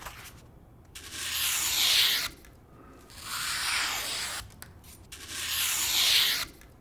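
Three slow, even scraping strokes of a 100-yen-shop knife across a whetstone, each rasp separated by a brief quiet pause.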